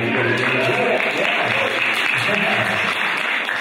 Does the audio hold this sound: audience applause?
yes